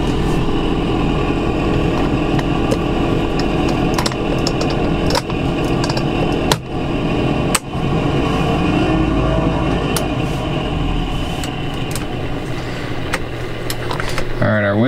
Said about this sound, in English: Let's see if our blower works. Our blower does something.